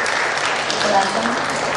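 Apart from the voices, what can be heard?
audience applause for Stanley, the filmmaker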